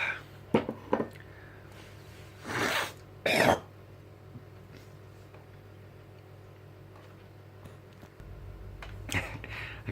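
A man coughs in a quiet room: two strong, rough hacking bursts close to the microphone, with fainter throat noises and small clicks scattered around them.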